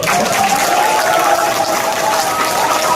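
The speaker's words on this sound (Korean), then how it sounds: "여러분 박수 한번 주십시오" Audience applause at a political supporters' forum launch in Korea, dense continuous clapping that fills the room loudly and evenly for the whole stretch.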